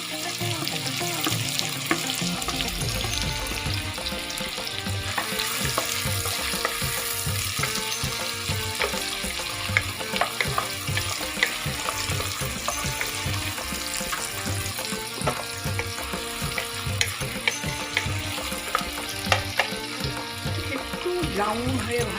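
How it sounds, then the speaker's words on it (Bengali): Chopped onions with bay leaf frying in hot oil for hot garlic pepper chicken, a loud continuous sizzle with scattered crackles, heard close over a rhythmic low background and some talk. "এবার আমি তেলটা গরম হয়ে গিয়েছে আমার, আমি কুচনো পেঁয়াজটা ছেড়ে দিলাম।"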